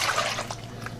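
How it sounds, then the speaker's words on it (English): Milk, partly frozen with icy lumps, is poured into a dish of bread and butter pudding, giving a steady close liquid pouring and trickling sound throughout, with no talking. "So we're going to pour this in there."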